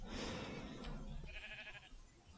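A sheep in the Minecraft video game bleating in short, quiet cries over low background noise, with a second faint bleat near the end and no talk.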